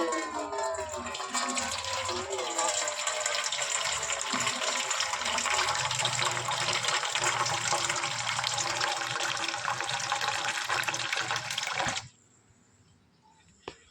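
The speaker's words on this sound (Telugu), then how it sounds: "దీనికి నీళ్ళు ఇచ్చేద్దాం." Water pours out steadily in a full, splashing stream for an animal, loud and close, stopping abruptly after about twelve seconds.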